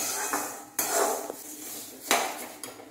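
A spoon scrapes and knocks against a pan while roasting spices for sambar powder are stirred off the heat, giving a few distinct metallic clanks between dry scraping sounds, close and clear.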